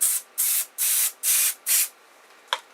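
Aerosol spray can used on a 3D printer build plate hisses in five short bursts of roughly equal length, close and loud, with a sharp click near the end.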